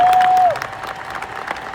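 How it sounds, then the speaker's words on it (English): Audience applause and cheering for a veteran realtor at a large event, a broad wash of clapping that swells at the start then settles into a steady, slightly thinner patter. "Let's clap it up for this legend of the game."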